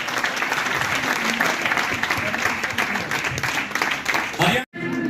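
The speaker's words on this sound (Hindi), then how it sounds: "एक बार जोरदार तालियां उठाए आगे से पीछे।" Loud, sustained applause from a large audience at a conclave in Agra, dense clapping filling the room for several seconds before cutting off abruptly near the end.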